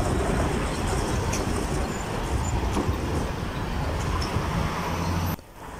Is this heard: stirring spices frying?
no